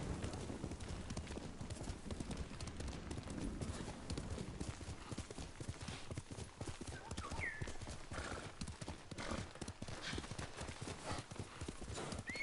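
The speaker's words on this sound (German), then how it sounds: "Holen wir mal das stolze Ross." Horse in Ghost of Tsushima galloping with rapid, steady hoofbeats throughout, faint and even, with short whinnies breaking through now and then.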